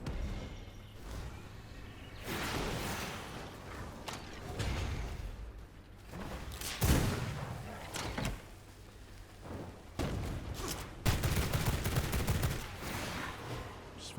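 Guns in V Rising fire in spaced bursts, with loud shots and short volleys separated by pauses and mechanical reload clatter, at moderate loudness.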